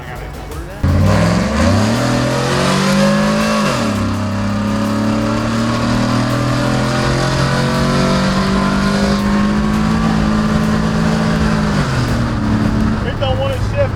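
A Chevrolet TrailBlazer SS accelerates hard, its engine note rising, dropping at a gear change and climbing again, loud and close from inside, with a person's voice over the engine.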